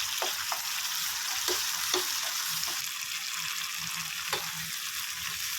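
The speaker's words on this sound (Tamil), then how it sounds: "எண்ணெய் தெரிஞ்சு நல்லா கொதிக்குது" Oil sizzles and bubbles steadily in a pan of pickle, a constant hissing crackle with a few soft clinks of stirring, close and moderately loud.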